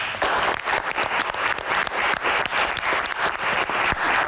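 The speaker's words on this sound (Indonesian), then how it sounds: "Tepuk tangan" Steady applause from an audience at a Q&A session honouring women guardians of the sky, dense and continuous clapping filling the room at even loudness with no talk over it.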